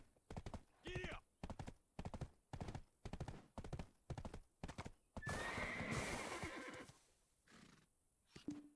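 A horse in the Black Desert video game gallops with quick, even clip-clopping hoofbeats, then lets out a loud whinny before the hooves pick up again.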